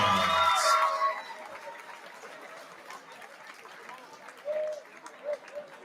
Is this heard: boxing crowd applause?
yes